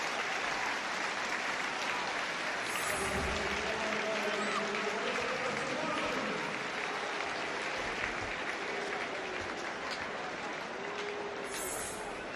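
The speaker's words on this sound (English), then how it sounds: "Hearts fans stand to applaud him as Prince Boaben comes on." Heart of Midlothian football fans in a stadium applaud a substituted player during a match against Celtic, a steady, distant wash of clapping across the crowd with a commentator talking over it.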